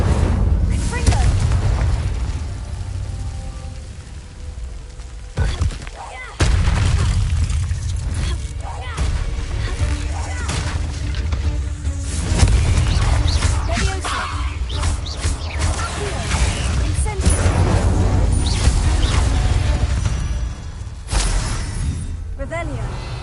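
Repeated deep booms and crackling blasts of Confringo and Incendio spells in a video game, loud and continuous, with a voice speaking over them throughout.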